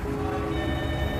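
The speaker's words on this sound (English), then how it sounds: "You could hear a phone ringing" A telephone rings in a quiet house, its bell tone steady and continuous over a dense, low background hum, with no voices.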